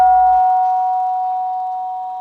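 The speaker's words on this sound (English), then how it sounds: "When the monks heard the gong, they went up to line up for the breakfast." Monastery gong at Panditarama meditation centre struck once to call monks to breakfast, a loud sustained metallic tone that rings out and slowly fades, alone without voices.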